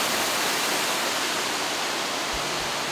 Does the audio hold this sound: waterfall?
yes